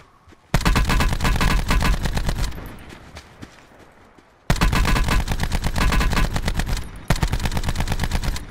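Automatic gunfire in Call of Duty: Black Ops 4, long loud sustained bursts of rapid shots with a brief lull, then a second stretch of rapid fire and a sharp restart near the end.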